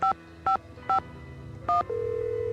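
Telephone keypad tones from a phone being dialed in a Nancy Drew video game: four short, loud DTMF beeps at uneven intervals, followed by a steady continuous tone, with no talking.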